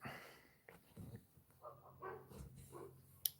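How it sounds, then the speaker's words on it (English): A young dog, barely more than a puppy, barks a few times from across the road outdoors, distant and fairly faint, with a sharp louder sound near the end. "Woof woof, says the dog over the road."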